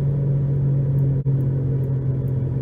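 Car cruising at steady speed with a bad wheel bearing: a loud, constant low drone and rumble from inside the cabin, holding one steady pitch, with a brief dip partway through; no voices.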